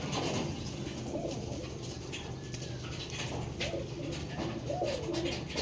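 Soft, repeated coos of blue bar pigeons rise and fall over a steady outdoor background, fairly close, with no talking.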